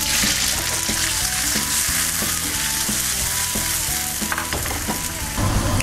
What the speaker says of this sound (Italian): ad olio ben caldo, aggiungiamo i nostri pomodorini tagliati a pezzetti